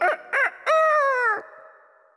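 A cartoon rooster crows loudly and close, with two short clucking calls followed by a long, drawn-out cock-a-doodle-doo that fades away.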